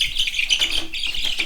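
Backyard chickens cheep and chirp during feeding, a busy run of high, bright peeps close by, with no voices over them.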